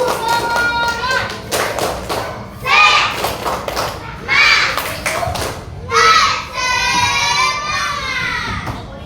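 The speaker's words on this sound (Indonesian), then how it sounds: "Tepuk tangan untuk kelompok 4." Schoolchildren in a classroom clapping for a group, with uneven bursts of hand claps, thumps and taps among loud children's voices and shouts.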